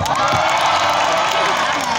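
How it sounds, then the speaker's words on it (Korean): A large outdoor crowd at a 2019 university festival hip-hop concert in Korea cheers and claps, a loud, dense wall of whoops and applause filling the whole moment. "박수 한번."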